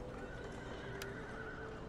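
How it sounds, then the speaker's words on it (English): Cavalry horses in a medieval Total War strategy game, a faint, low whinny with soft hoof clatter over a steady background hum, one brief sharp click midway. "he's got a lot of horses"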